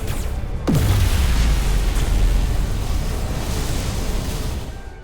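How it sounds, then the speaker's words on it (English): In the Star Trek: Resurgence video game, a phaser shot sets off a dilithium crystal explosion: a sudden deep boom with a sharp falling whoosh, then a loud roaring rumble that slowly fades over several seconds. "Whoa! Dilithium explosion!"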